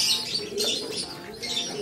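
Pigeons being fed stag developer feed make soft chirps and a few low coos, close by and continuous, with faint rustling and no talking.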